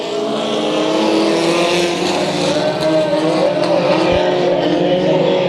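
Race cars roar through a heat at Bakersfield Speedway, a loud, continuous layered engine drone from several cars close by, with a faint trace of an announcer's voice underneath.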